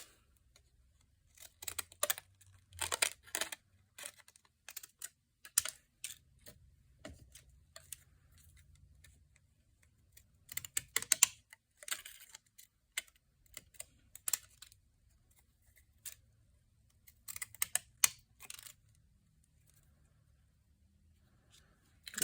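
A paper birthday card for kids is cut out with scissors, giving scattered quiet snips and crisp paper rustles in irregular clusters against near silence.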